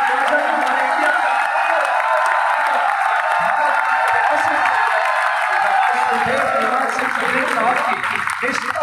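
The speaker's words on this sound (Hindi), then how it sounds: "जोरदार तालियां बजाकर बताए गोटे गांव" Large crowd at a final cricket match in Gotegaon, Madhya Pradesh, claps and cheers loudly and continuously, with whoops rising over a dense wash of noise and voices mixed in.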